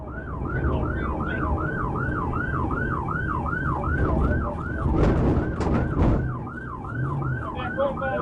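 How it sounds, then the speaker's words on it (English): A police car siren wails in a fast, steady up-and-down cycle, loud and close, with passing traffic noise rumbling beneath it during a pursuit. "after the trooper activated lights and sirens"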